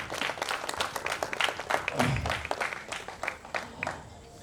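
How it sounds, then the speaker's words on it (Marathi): An audience at a Buddhist Ambedkar Jayanti gathering claps loudly for a girl's donation. The applause is a dense burst of many hands that swells and then gradually thins out. "तिच्यासाठी जोरात टाळ्या आला पाहिजे"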